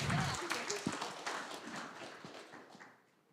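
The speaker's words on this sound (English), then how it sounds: "Big applause for Oposal" An audience at a tech hackathon's final pitch event applauds in a brisk wash of clapping that is loudest at first and fades over a few seconds, with a voice briefly over it.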